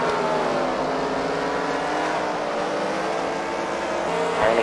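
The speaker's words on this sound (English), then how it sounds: "chasing the Elliots scoring more points here with every lap that they lead" Race cars lap an oval track during a competitive league race, a steady, continuous engine drone with several cars running together at a distance, with no talk.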